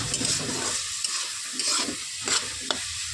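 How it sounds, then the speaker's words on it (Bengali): Dry red chili powder fries in a pan for chicken chow mein, a continuous sizzle broken by repeated scraping stirs of a spatula, close and fairly quiet, no voices. "এইবার এর মধ্যে দিয়ে নিচ্ছি একটু শুকনো লঙ্কার গুঁড়ো, দিয়ে নিয়ে ভালোভাবে একটু ভেজে নেব"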